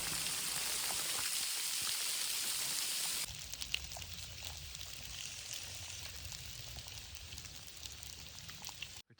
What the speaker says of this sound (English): It is hailing right now.